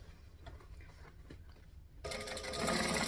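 A sewing machine stitches around a bag, starting as a soft mechanical whir and jumping to a louder, denser run of rapid stitching for the last second.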